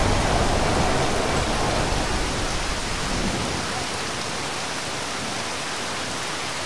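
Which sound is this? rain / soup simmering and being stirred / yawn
rain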